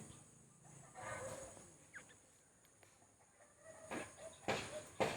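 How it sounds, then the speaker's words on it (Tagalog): Chickens cluck at a distance in the video game Roblox over quiet background noise, with a few louder bursts and scrapes near the end. "Sorry if maingay sa mga manok"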